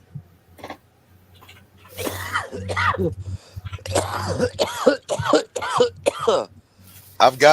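A man coughs and clears his throat several times in rough bursts, mixed in with conversational speech.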